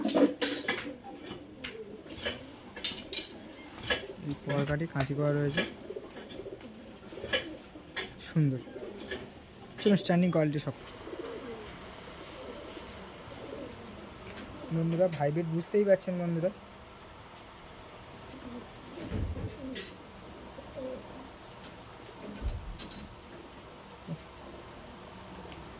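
Giribaj-line pigeons coo in short repeated bursts close by while someone talks over them for most of the stretch, with a few quieter gaps and small knocks.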